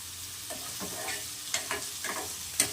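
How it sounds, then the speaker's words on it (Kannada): Onion, mustard seeds, curry leaves and chillies fry in a pan, a soft continuous sizzle broken by several light scraping stirs and a few small pops. "ಈರುಳ್ಳಿ, ಸಾಸಿವೆ, ಕರಿಬೇವಿನ ಸೊಪ್ಪು, ಮೆಣಸಿನ್ಕಾಯಿ ಎಲ್ಲ ಹಾಕಿ ಫ್ರೈ ಮಾಡ್ತಾ ಇದ್ದೀನಿ"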